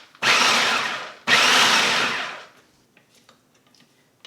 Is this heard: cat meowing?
no